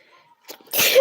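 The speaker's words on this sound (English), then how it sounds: "How can I talk when I have to sneeze?" A single close, loud sneeze bursts out after a faint intake of breath, short and sharp at the end of a quiet moment.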